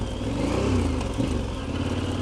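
A heavy motorcycle of over 200 kg ridden through deep mud on a Mongolian trip, its mid-pitched engine droning steadily and close with slight rises in revs and a faint underlying clatter, no voices.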